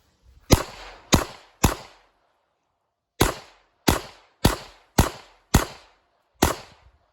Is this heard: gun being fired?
yes